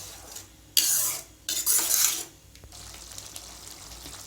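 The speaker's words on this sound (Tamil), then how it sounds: "மூடி வைக்காமல் நல்லா கிளறிட்டே இருங்க." Tomato thokku is being stirred in a pan on a high flame, giving bursts of scraping and sizzling in two loud stretches, followed by a softer steady cooking sizzle.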